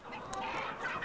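Chickens on a castaway island cluck in a dense, overlapping cluster, close and moderately loud for about a second.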